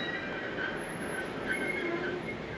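An Isle of Man steam train rolls into Port St Mary station, a steady rumbling wheel-and-carriage noise with faint high squeal, continuous and moderately close, no talking.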